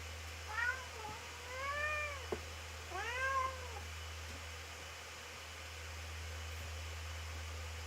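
A house cat meows twice close by, each call drawn out and wavering, with a small tap between them, then only a steady low hum.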